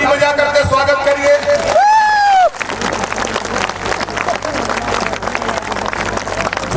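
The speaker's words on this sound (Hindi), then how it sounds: "जोरदार ताली बजा करके स्वागत करिए।" Crowd at a Bihar election rally breaks into loud applause and cheering, a dense wash of clapping and hubbub rising after a brief amplified voice and continuing steadily.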